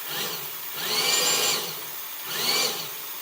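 A handheld vacuum sealer gun runs in two separate bursts, each a close, high motor whine that rises, holds for about a second, then cuts off.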